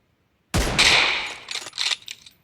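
A sharp, loud sniper rifle shot in PUBG Mobile bursts out after a short silence, followed by trailing metallic rattles and echoes that fade over the next two seconds.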